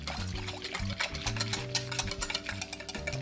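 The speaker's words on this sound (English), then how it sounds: "Okay, so let me whisk this first." Hot milk and chocolate for a pie custard whisked in a pot, a busy stream of quick clinks and scrapes running the whole time, close and fairly loud, with no talking.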